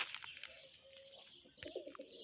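Pigeons, including tumbler and fantail breeds, cooing in a garden, soft low coos and a few brief chirpy calls close by over quiet background.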